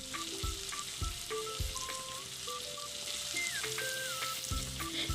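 Ground coriander and cumin sizzle in a pan with chicken and pumpkin over low heat, a soft continuous frying hiss with occasional thumps and scrapes from stirring, faint and close, with a quiet tonal whistle in the background.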